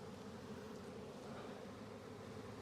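A swarm of honeybees buzzes in a continuous, dense drone, close and steady with no pauses, while a beekeeper works the swarm into a box.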